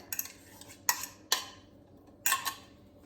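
Four eggs are mixed into butter and sugar for banana bread, with a few sharp clinks of a utensil against a bowl, spaced irregularly and close, and no voice.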